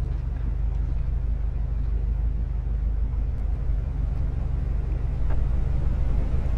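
Inside a car driving in the VR game Chordosis, a steady, heavy engine and road rumble drones continuously at an even level, close and enveloping, with no other clear sounds on top.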